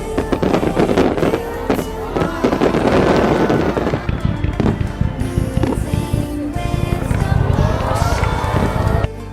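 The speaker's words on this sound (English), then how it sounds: "See in the video how these fireworks explode." Fireworks exploding in a continuous barrage of bangs and crackles, loud and dense throughout with sizzling bursts.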